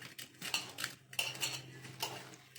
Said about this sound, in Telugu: ఆయిల్ వేసి దాన్ని బాగా కలుపుకోవాలి.